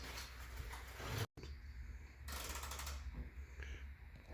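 Mechanical clicks, ratcheting and metallic clatter as an upper control arm is mounted on a 1991 Nissan Skyline, close and fairly loud, broken by a short dropout and steady workshop noise.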